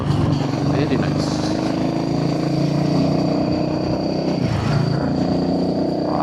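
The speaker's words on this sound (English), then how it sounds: "I basically want to experiment with the growling of the bike. I have this customized barrel exhaust" Customized barrel exhaust on a motorcycle growls steadily and close on a hot, humid city ride, a continuous low drone with slight rises in revs and a voice talking over it.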